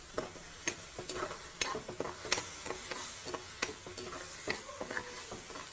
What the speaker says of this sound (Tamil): ஒரு 2 நிமிஷம் நல்லா வதக்கிட்டு